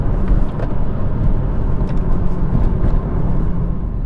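A BMW M140i accelerates hard, its engine a loud, steady, close rumbling drone that holds for the whole few seconds with no voices.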